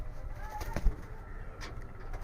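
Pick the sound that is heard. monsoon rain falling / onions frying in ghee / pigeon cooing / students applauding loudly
pigeon cooing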